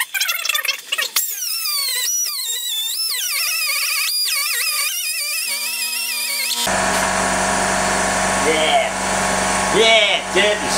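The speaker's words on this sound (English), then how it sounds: "Got a little grinding tool." A small high-speed grinding tool on a BSA Victor motorcycle swinging arm held in a vise whines with rising and falling pitch, then bites into the metal with a harsh, steady, close-up grinding roar.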